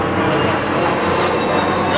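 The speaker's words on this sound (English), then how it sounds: "We have wonderful airplanes going overhead as you can hear right now." Airplanes pass overhead above a wooded area with nearby homes, making a loud, steady, broadband roar that fills the whole moment without a break.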